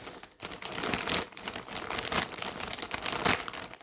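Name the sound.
opening a parcel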